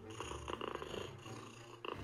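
Cartoon cat from the Talking Tom 2 game sleeping and snoring, a soft, close, purring rumble in rhythmic pulses that fades briefly and then resumes.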